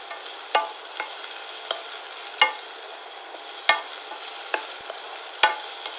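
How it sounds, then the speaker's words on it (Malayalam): Shallots stir-fry in ghee in a pan for a quick healthy soup, giving a steady low sizzle broken by repeated sharp scrapes and clicks of a spoon against the pan, with no voices. "ചുവന്നുള്ളി നമുക്ക് നന്നായിട്ടൊന്ന് വഴറ്റിയെടുക്കാം."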